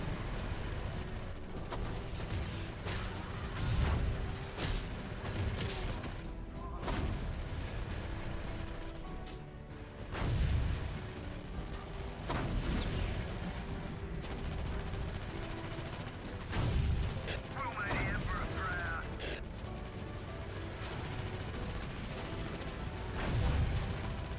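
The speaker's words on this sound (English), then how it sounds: "Keep firing till they see a glow on our barrels." Dense battle din from the strategy game Dawn of War: Ultimate Apocalypse, with continuous gunfire, periodic heavy tank cannon booms and explosions layered throughout.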